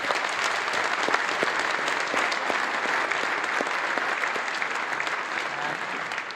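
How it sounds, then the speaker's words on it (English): Audience applause fills a church hall at a charity event, a dense, steady sustained clapping from a large crowd that holds at an even level throughout. "Can I just give them a massive round of applause?"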